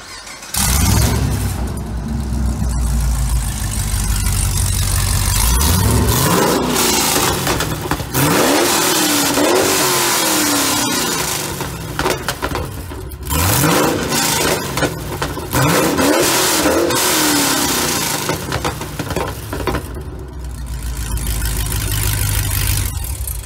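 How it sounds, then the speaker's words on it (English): A Chevrolet Camaro ZL1 with an open header starts up and idles loudly, then revs in several sharp rising bursts between rough, thundering idle stretches. "it would not hurt to do an open header startup and rev real quick"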